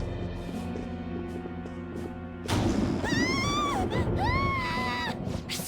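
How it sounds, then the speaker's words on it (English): A scream in the video game Persona 5: a crash opens onto a long wailing scream that rises and falls in several pitched cries, loud against a steady background score. "Scream? What was that?"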